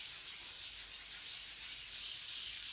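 Sandpaper rubs rust off a cast-iron table saw top, a faint, continuous, breathy scratching hiss held close with no voices.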